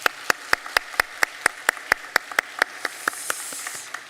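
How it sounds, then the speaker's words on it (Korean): Church congregation at a midweek Korean service clapping in unison, steady rhythmic claps about every quarter second, fairly close and clear, with no talking over them. "우리 섬겨주시는 모든 분들을 위해서 우리 격려로 박수 한번 하도록 하겠습니다"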